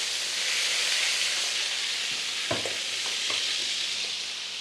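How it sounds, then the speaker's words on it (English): Steady loud sizzling and hissing of chicken frying in a pot, with a few short stirring clunks partway through. "Our little pot here is sizzling away"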